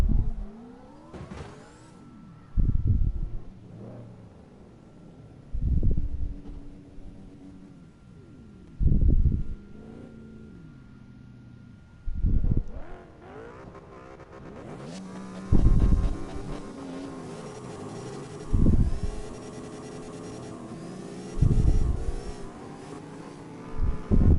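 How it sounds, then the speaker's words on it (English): EcoBoost V6 car engine in the CarX Drift Racing game revving hard in repeated bursts roughly every three seconds, each sharp rise dropping back to a low idle, loud and close with no talk over it. "this is supposed to have an EcoBoost V6"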